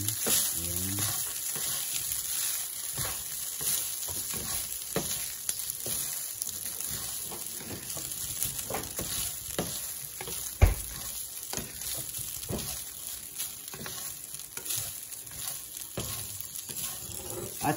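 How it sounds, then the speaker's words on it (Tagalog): Basmati fried rice sizzling steadily in a pan while being stirred, with a constant frying hiss and repeated scraping stirs, close and even throughout, with no talking. "Haluin lang natin."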